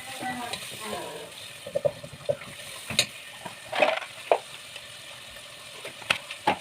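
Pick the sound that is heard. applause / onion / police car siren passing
onion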